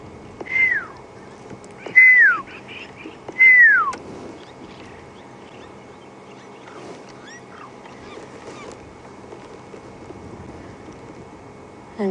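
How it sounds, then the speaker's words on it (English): Three descending whistled calls in the first four seconds, likely lapwings or a pearl-spotted owlet, out on a safari drive at Djuma Game Reserve in the evening, then fainter distant bird calls over quiet bush ambience. "You can listen to the calls of the lapwings and a pearl-spotted owlet somewhere in the distance"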